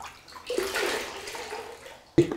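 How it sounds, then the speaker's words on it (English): Water for a grouting sponge pours and splashes into a bucket for a short burst, a close rushing gush that tapers off, followed by a sharp knock at the end. "In comes sponge water."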